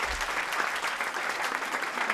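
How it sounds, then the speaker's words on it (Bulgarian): A crowd at a Bulgarian foundation seminar applauds to welcome guests from Macedonia, a dense, steady roar of many hands clapping together, close and continuous throughout. "Сега искам да приветстваме с добре дошли и с аплодисменти нашите брати и сестри от Македония."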